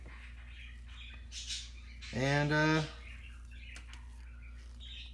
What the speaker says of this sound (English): That's the wife's parakeets going crazy.